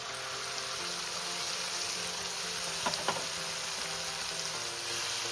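Ground pointed gourd paste fries with onions in a pan, giving a steady, even sizzle with a couple of brief clinks partway through.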